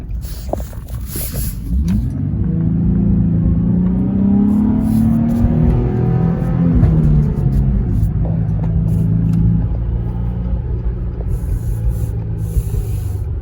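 A Nissan 350Z engine drones steadily while driving, a loud close rumble with rising and falling tones as the revs shift, continuing without talk throughout.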